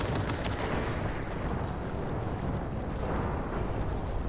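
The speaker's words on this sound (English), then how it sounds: "there's a lot of gunfire, and I'm not entirely sure why." Gunfire in the video game Cyberpunk 2077: Phantom Liberty, a dense rumbling barrage of rapid shots and booming bursts that continues loud and unbroken throughout, with no voices heard.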